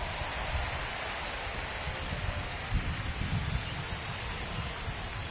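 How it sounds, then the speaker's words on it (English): Heavy rain pours steadily in the MLB The Show 25 baseball game, a dense, continuous wash of rainfall with a faint low rumble underneath and no voices. "Rain coming down hard."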